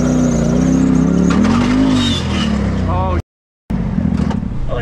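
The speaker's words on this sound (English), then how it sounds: "Oh, look at that, a 6-wheel drive Jeep." A six-wheel drive Jeep engine revs loud and close, its pitch rising and falling, then cuts out briefly before the engine noise returns.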